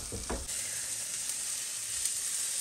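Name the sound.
masala frying in a pan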